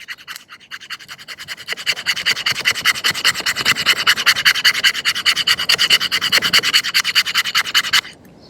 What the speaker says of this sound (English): pretty good scraping on the spine there